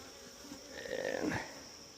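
A honey bee buzzes past near a beehive, a soft steady drone that swells briefly as it passes close, then fades back to a faint outdoor hum.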